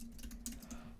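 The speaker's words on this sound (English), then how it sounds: "I'll just type it while I talk." Quick keystrokes on a computer keyboard, a brief run of light, irregular taps with a soft electrical hum beneath, faint and close, with no voices.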